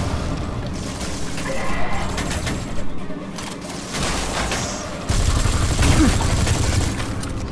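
Gunfire from the N.O.V.A 3 shooter game: dense, loud volleys of rapid shots and booms that run almost without a break, growing heavier toward the end, with a voice talking now and then underneath.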